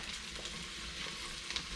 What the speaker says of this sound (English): So we're gonna leave it in here to saute for just a minute.